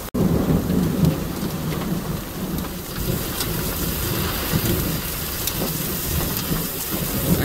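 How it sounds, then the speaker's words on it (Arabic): Heavy rain mixed with hail pours down over a village in Damad, Jazan region, during a storm: a dense, steady hiss of drops and pelting hailstones, with a deep thunder rumble near the start. "أمطار غزيرة مصحوبة بحبات البرد الآن"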